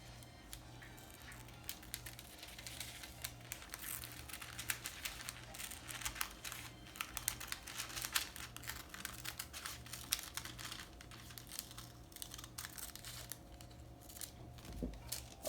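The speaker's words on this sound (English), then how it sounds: "I'm just gonna cut this out" Fabric being cut out for the back yoke of a bustier top, with soft, steady snipping and crinkling of material close by, continuing quietly and evenly throughout with no talking.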